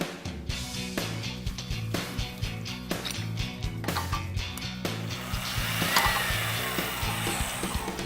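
A non-impacting torque wrench gun tightens a bolt toward 450 foot-pounds, giving a close, continuous mechanical whir with regular rhythmic pulses that swell slightly toward the end before easing off.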